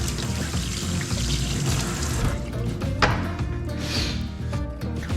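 Camel meat being washed under a running tap in a Moroccan kitchen, a steady loud gush of water splashing over the pieces with occasional shifts as they are handled.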